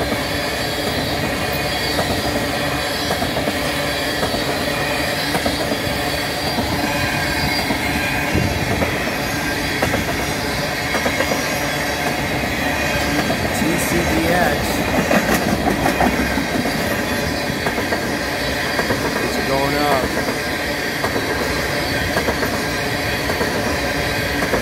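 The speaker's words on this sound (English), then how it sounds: "might be an empty ethanol train" An empty northbound ethanol train hauled by CN ET44AC and ES44AC locomotives rolls past steadily, with a continuous rumble of railcars, rhythmic wheel clatter and occasional wheel squeal throughout, close and loud.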